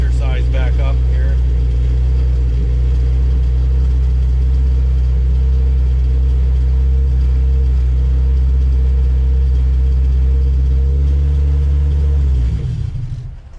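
A turbocharged Honda Civic Si with a swapped B18C1 engine idles roughly and loudly, its steady low rumble wavering before the engine stalls and cuts out near the end.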